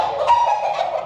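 Gamefowl stags on a Philippine game farm cluck in a short, steady, close burst with no talk over it.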